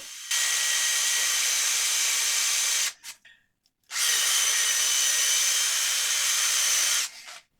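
A wooden dowel spun at speed on a lathe, pressed against wood to ignite shavings, gives a loud continuous high whirring friction whine in two long runs of about three seconds each, split by a brief pause and a few scrapes.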